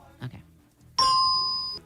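A bell sound effect rings out on a game show: a single bright, sustained chime that starts abruptly and holds steadily for nearly a second before cutting off, following a brief bit of quiet murmuring.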